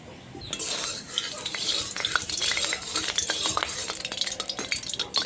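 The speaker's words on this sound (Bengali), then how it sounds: "কড়াই গরম হয়ে গেছে, তেল দিয়ে দেবো।" Oil poured into a hot wok on a lit stove, a close, busy crackling sizzle that starts abruptly and keeps popping, with faint utensil clatter and no speech.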